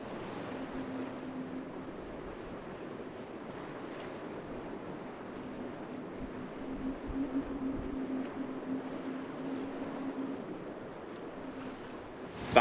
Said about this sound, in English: Perfect downwind sailing.